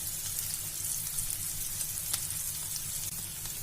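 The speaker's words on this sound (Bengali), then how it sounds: "সয়াবিনের তেল দিয়েছি, দিয়ে দিব পেঁয়াজ কুচি, কাঁচা মরিচ কুচি, দিব গোটা জিরে" Chopped onion and green chili frying in soybean oil in a kadai, a steady close sizzle with faint crackles over a constant low hum, no voices.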